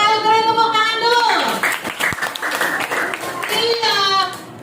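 Schoolchildren clapping together in a classroom, a rapid patter of many hands lasting a few seconds, with children's chanting voices before and after.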